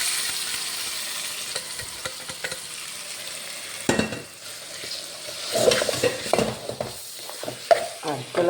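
Meat frying with curry masala and shallots in a pan while being stirred, a steady close sizzle with scraping and clinking stirring strokes growing busier toward the end, no talk over it.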